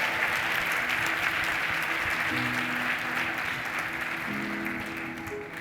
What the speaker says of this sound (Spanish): Denle un aplauso fuerte a Cristo con todo su corazón.